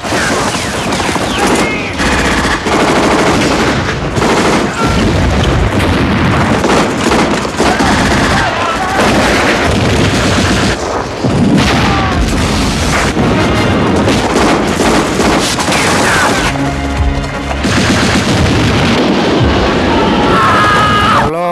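Loud, dense film battle gunfire from a winter battle at Stalingrad: rapid rifle and machine-gun bursts mixed with heavy booms and explosions, continuous and chaotic throughout.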